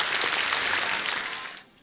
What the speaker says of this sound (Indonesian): Kita berikan tepuk tangan langsung Buat untuk Coki.